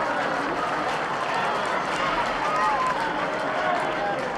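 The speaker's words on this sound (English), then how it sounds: "and not at all a bad crowd." A football crowd at Brentford's first home game of the season keeps up a dense, continuous roar and murmur from the terraces, while a commentator talks over it.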